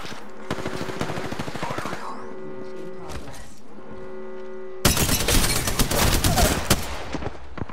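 Bursts of automatic gunfire in Apex Legends, scattered shots first and then a loud, close barrage over the final few seconds, with game voice lines mixed in.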